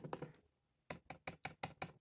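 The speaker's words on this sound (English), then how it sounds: "You can probably hear it clicking." Touchpad of a plastic 2017 Lenovo ThinkPad 13 Gen 2 laptop clicks six times at a steady pace, hollow and close, after a brief softer patter of taps.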